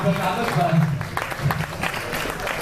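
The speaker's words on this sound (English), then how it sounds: "Please give me a round of applause now." Scattered clapping from a crowd at a comedian's performance at a media awards show mixes with voices talking over it, close and fairly loud.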